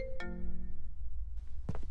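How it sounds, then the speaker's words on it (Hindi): A mobile phone ringtone sounds as a short chime with a bright tonal onset that rings out and fades, followed by faint rustling and a couple of soft knocks in a quiet room. "नित्या का फोन"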